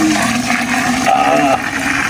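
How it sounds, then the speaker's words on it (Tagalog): Six liters of boiling water poured in a steady rush onto half a kilo of cassava for Filipino sorbetes, a continuous splashing gush lasting the whole moment while a voice talks over it. "Pwede na siyang buhusan ng kumukulong tubig."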